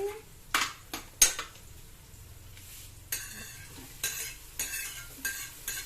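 Chopped tomato stirred in a metal pot, heard as faint clinks and scrapes of a spoon against the pot over a low background, in short irregular bursts.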